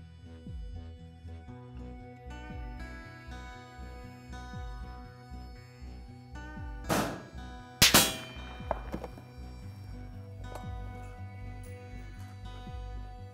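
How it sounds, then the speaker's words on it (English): Two sharp, loud reports from a lightweight Remington 700 precision hunting rifle fired at a long-range steel target around 1000 yards, standing out against a ringing, rhythmic metallic background. "We're gonna take some shots on that, see how this thing groups."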